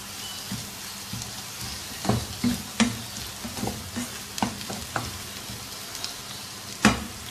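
Egg bhurji stirred and scraped in a hot frying pan, soft steady sizzling broken by a series of sharp spatula knocks and scrapes against the pan, with no talking.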